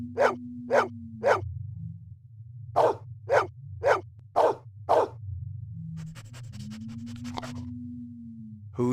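A dog in the Blade Runner video game barks in two bursts, three sharp barks and then five, close and loud over a low electronic hum and a rising tone.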